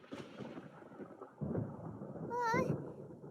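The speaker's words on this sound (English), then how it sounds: "Paimon hears thunder!" Thunder rumbles in Genshin Impact, a low rolling crash that swells midway, with a character's voice briefly cutting in.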